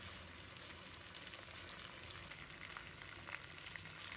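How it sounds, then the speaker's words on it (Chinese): Chicken legs pan-fry over medium heat for soy sauce chicken, giving a faint, steady, even sizzle throughout with no talking. "开中火把鸡腿煎一下，煎至表皮发黄了，就要给它翻一下。"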